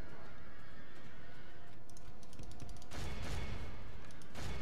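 Horses neigh and whinny in the Medieval 2: Total War video game as cavalry charges into a line of spears, with hooves clattering, then a loud burst of crashing battle noise in the middle.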